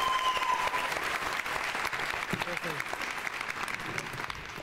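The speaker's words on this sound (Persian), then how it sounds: "تشویقشون کنید." A studio audience claps steadily throughout at a moderate distance, the applause holding an even level from start to finish on a Persian game show.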